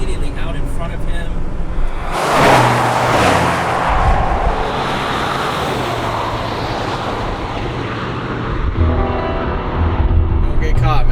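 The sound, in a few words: Ford Bronco drag race launch with tire spin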